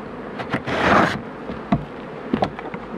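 Honeybees at an opened hive give a brief, close, rising buzz, surrounded by sparse knocks and taps of the beekeeper working the frames.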